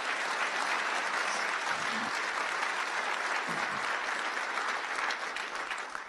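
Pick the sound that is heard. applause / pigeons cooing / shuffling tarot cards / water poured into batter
applause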